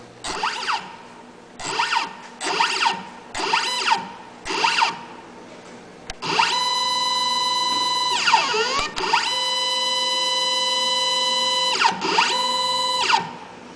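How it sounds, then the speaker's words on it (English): An electric valve actuator motor drives a globe valve stem on pipeline pressure and flow control equipment: five short whirring bursts, then a long steady motor whine with stepped harmonics that dips briefly mid-run and resumes, loud and close, with no voices. "When I change the control signal, the motor activates, begins moving the valve stem"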